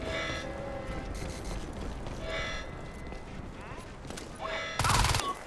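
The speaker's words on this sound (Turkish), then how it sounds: "Silah sesi." Bursts of gunfire crack through a noisy Crysis 2 game scene, ending with a loud close volley near the end.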